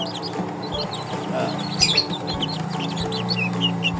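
Serama chicken chicks peeping, many high thin cheeps overlapping in quick irregular bursts, close by, over a low steady background hum.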